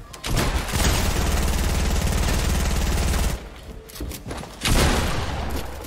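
Gunfire in Fortnite, including pump shotgun shots, comes as a loud, dense barrage of rapid blasts for several seconds, then a brief lull before another burst of heavy shooting erupts up close.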